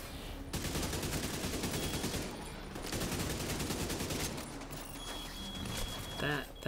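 Rapid gunfire bursts from a shooter video game, The Division 2, crackle continuously through a busy firefight, with sustained automatic fire and scattered shots dense throughout.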